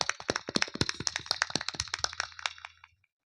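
Audience at a village Ramlila performance clapping for donors, a burst of sharp claps, fairly loud and close, fading out after about three seconds.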